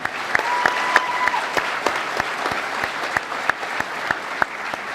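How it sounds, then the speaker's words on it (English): A San Diego Comic Con audience claps in sustained applause, with a few sharp, loud individual claps and a brief whistle standing out over the crowd. "I think maybe we should give a round of applause for the passing of George Romero."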